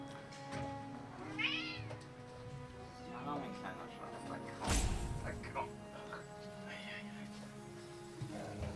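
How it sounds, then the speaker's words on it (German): A cat meows indoors, a few rising and falling cries close by, with a background hum, faint talk and a sharp thump partway through. "Das ist eine süße Katze."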